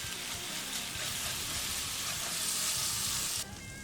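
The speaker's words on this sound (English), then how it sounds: "in goes the butter" Butter sizzling in a hot pan on a breakfast griddle, a loud, steady crackling hiss that continues evenly and drops slightly near the end, with no voices.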